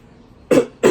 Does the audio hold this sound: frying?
no